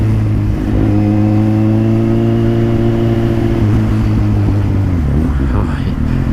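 Kawasaki Z800 motorcycle engine droning loud and close with steady harmonic tones, rising slightly then dropping off near the end, with a voice speaking over it.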